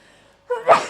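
A single sneeze bursts out close and fairly loud after a stretch of near silence: a short sharp intake followed by an explosive, breathy release.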